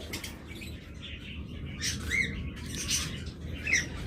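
Pet budgerigars kept as birds for sale chatter and call, with sharp squawks and chirps over a busy background of flock noise, fairly close and steady throughout.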